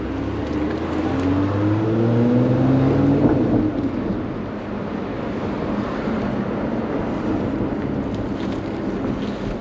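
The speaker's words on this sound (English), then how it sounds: "we're going to go for a bit of a drive in the new Emira" A Lotus Emira prototype sports car drives along, its engine hum holding steady with a gently rising tone under heavy wind and road rush, with no talking.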